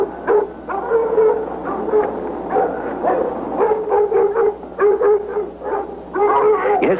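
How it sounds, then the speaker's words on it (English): Hunting dogs on the trail of a deer bark and yelp in repeated bursts, several close, loud calls in an uneven rhythm, with a whimpering edge to some. "The dogs are hot on the trail, chasing the deer in this direction."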